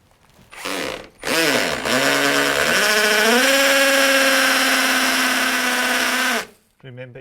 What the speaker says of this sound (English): Keep the drill straight.